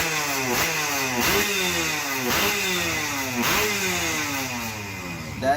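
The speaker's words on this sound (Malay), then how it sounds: "kalau anda ingin melihat atau mendengar jenis enjin 2 stroke adalah seperti begini." A two-stroke scooter engine running steadily with a buzzy, rattling tone, rising and falling slightly in a regular cycle, loud and close with no talking.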